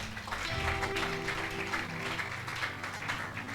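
A church congregation at a Sunday service applauds and cheers with steady, dense clapping and voices over sustained instrumental music, loud and close throughout.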